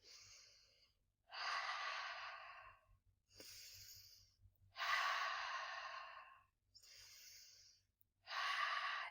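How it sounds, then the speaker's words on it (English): Slow, calm breathing from a children's butterfly breathing exercise: five or six soft, airy breaths, each a drawn-out exhale of a second or more, separated by short pauses, close and quiet with no talking. "let's put one hand on each shoulder, crossing our arms, and do some butterfly breathing."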